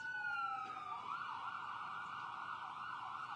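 Emergency vehicle sirens passing outdoors during a press conference, a wailing tone that slides down in pitch and then holds as a steady wail, faint and distant, with no talking.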